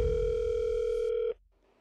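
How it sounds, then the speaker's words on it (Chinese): A steady telephone tone sounds as a call is placed, holding at an even level for over a second over a low rumble, then cutting off abruptly into near silence. "随后张晨给李玉兰打了一个电话"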